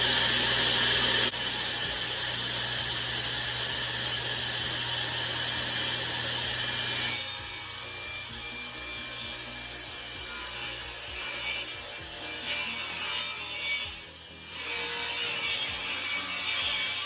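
A Ridgid 4560 table saw rips through plywood, its motor hum joined by steady rasping wood noise for the first seven seconds, then a quieter spell of scraping and handling sounds with the machine winding down.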